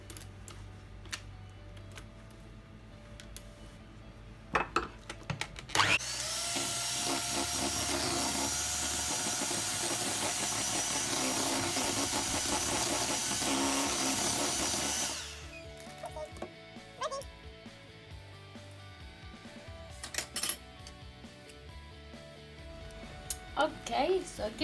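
An electric mixer whirs steadily at a moderate level for about nine seconds while blending whipped cream into mascarpone for a chocolate cake's cream. Kitchen clatter and a voice come before and after.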